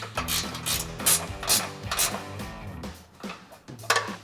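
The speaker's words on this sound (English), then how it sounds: "grab our 13mm ratcheting wrench for this backside combo bolt" A 13mm ratcheting wrench tightens a bolt on a Jeep Wrangler JL rocker step, producing close, repeated rapid clicking ratchet strokes in several quick bursts with no talking.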